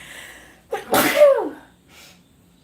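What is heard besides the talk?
sneeze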